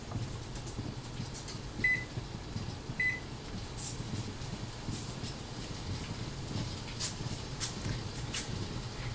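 Two short electronic beeps from a kitchen timer sound close by, a second apart, over a steady low hum and background rumble while a pot of blackberry syrup boils.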